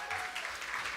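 Applause from a live concert audience at JAX, a steady wash of clapping filling the whole moment without a break.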